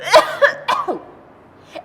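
A voice imitates a short series of coughs, three or four harsh bursts close up, followed by a faint trailing sound.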